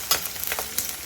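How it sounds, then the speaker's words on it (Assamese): Onions sizzle in a hot pan as they brown, a close, steady crackle broken by brief scraping stirs. "মোৰ পিঁয়াজ ৰঙচুৱা হ'বলৈ দিছোঁ"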